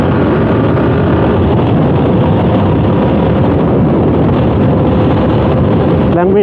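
A Yamaha YZF-R7 700cc CP2 two-cylinder motorcycle accelerates hard in fourth gear, its engine roaring loud and close over heavy wind buffeting for the whole stretch.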